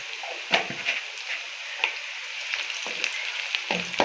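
White cumin seeds sizzle steadily in hot oil for fried mash dal, a dense continuous crackle with occasional sharper pops and a stirring scrape, close and loud with no talking.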